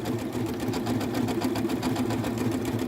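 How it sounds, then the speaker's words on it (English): A Janome sewing machine stitches a decorative stitch on a piece of felt, giving a steady, loud, rapid mechanical whir and chatter that runs close-up without pause. "I'm just giving that a little stitch out on this"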